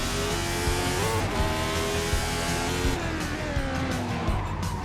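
A race car from a 1984 Australian Grand Prix racing game snarls at high revs while its tyres squeal through a long oversteer slide, loud and continuous, with engine pitch rising and falling as it fights for grip.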